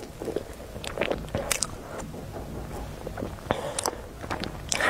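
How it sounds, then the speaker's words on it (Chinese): Someone bites into a custard mille-feuille pastry, giving crisp flaky crunches and then soft close-up chewing with a few sharper cracks, quiet and intimate with no talking. "是一个奶黄千层，我第一次吃这个，"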